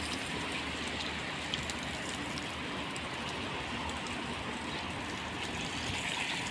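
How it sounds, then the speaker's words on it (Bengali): Water sprays onto flower plants in front of a building, a steady, close hiss of droplets pattering on leaves and soil without a break. "এনারা দেখুন কত সুন্দর করে পানি দিতেছে"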